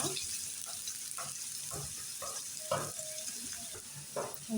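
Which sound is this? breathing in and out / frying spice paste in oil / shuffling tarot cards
frying spice paste in oil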